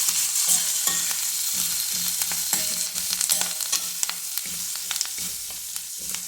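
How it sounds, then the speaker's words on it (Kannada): Onion, curry leaves, green chili and turmeric fry together in a pan for drumstick gojju, with a continuous gentle sizzle broken by regular spoon scrapes and clicks against the pan. "ಈರುಳ್ಳಿ ಎಲ್ಲ ಚೆನ್ನಾಗಿ ಬಾಡಿದೆ"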